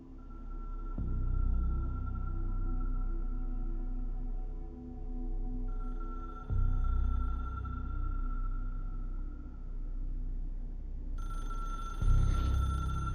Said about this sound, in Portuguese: Ninguém para atender o telefone, não?